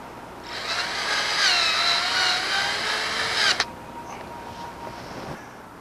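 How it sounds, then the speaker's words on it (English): A power drill drives a self-tapping screw into a cat fence post through its metal sleeve, a close, steady whirring drone for about three seconds that stops abruptly with a click, followed by faint rustling. "Then attach the post to the sleeve with a self-tapping screw."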